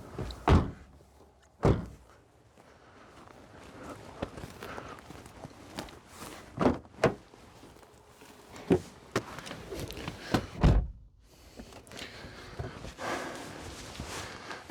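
A vehicle door is shut several times during an outdoor wildlife filming trip. Sharp thuds and slams are scattered over rustling movement, with one loud bang near the start and others spaced through the stretch.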